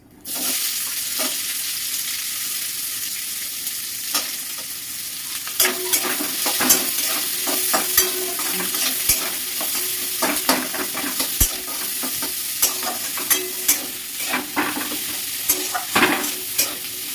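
Chopped onion frying in hot oil in a pan and being stirred, a steady broadband sizzle with repeated scraping and clinking from the utensil, close and continuous with no talking.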